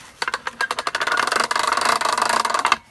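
A used winch, shown for sale as a machinery spare part, runs briefly: a close, fast mechanical buzz with rapid rattling pulses that starts after a moment, holds steady for about two seconds, then stops.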